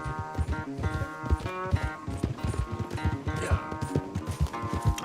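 Horses gallop in a race back to camp at Clemens Point in Red Dead Redemption 2, a steady rapid beat of hooves pounding close by over a music-like background bed, with no talk.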